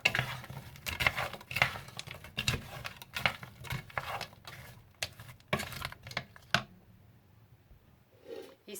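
Vegetables for couscous being stirred in a cooking pot over raised heat, giving soft wet patter and scraping with light clinks for about six seconds, then near silence with a faint rustle.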